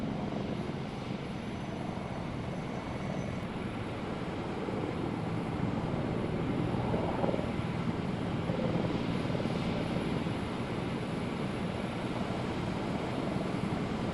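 A military aircraft engine in ARMA 3 around an aircraft carrier produces a steady, dense turbine roar that stays loud and even throughout with no breaks.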